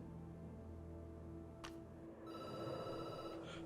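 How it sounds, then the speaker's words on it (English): A phone rings in the video game Night Call, a faint electronic trill that begins partway through and repeats over a low, steady ambient hum. "The phone rings and you jump."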